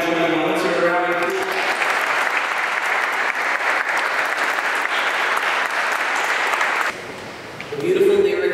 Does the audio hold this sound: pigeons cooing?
no